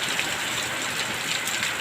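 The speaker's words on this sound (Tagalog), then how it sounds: "Ayan o, lakas ng ulan o." Heavy rain pours steadily outside a house where pigeons are kept, a dense, continuous hiss of water with no voices and no breaks.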